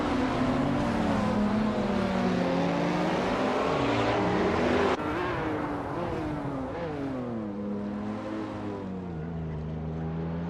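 A 2010 Aston Martin Vantage GT4 race car engine drones steadily in a racing game, its pitch sweeping up and down through gear changes with a shift near the midpoint, loud and continuous without talk.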